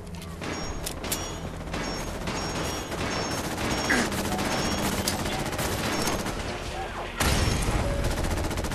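Rapid bursts of automatic gunfire and scattered shots from a firefight in Fallout 4, loud and dense throughout with crashes and a sharp swell near the end, a voice briefly heard under the shooting.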